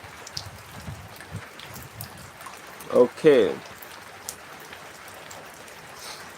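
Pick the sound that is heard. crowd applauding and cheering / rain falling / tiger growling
rain falling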